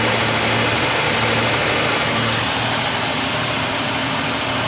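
Ford Ranger six-cylinder engine running in a workshop while losing power, a loud steady broadband roar with a low hum that stays continuous, with the revs shifting slightly throughout.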